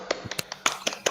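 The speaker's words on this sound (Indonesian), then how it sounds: "Beri tepuk tangan buat Hasna dan kelompok 1" A few scattered hand claps ring out in a classroom, applauding a student named Hasna and her group after a presentation, with sharp irregular slaps over about a second.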